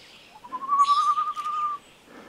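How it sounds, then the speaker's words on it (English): A single bird, a cuckoo or mockingbird, calls outside caves in Cuba: one clear, sustained whistled note lasting over a second, fairly close and alone against a quiet background. "I hear the cuckoo bird"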